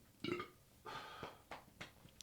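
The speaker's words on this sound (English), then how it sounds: "I'm burping again" A person burps a few times, with one strong belch near the start and then several shorter, softer eructations spread across the next two seconds.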